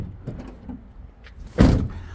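Door of a six-metre Burstner C590 campervan on a Ford Transit base is shut, with small handling knocks, then a firm, loud close thud and a brief rattle after it.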